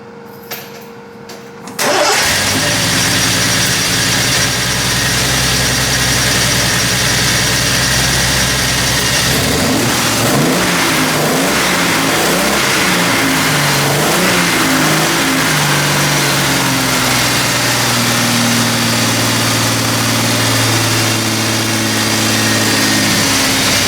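A Triumph TR6 under restoration cranks and fires up, then is revved several times before settling into a loud, steady idle, with the engine close and no talk over it.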